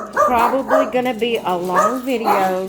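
Several dogs bark and yip repeatedly at close range in a home, their rapid overlapping barks and whimpers running under a person's speech.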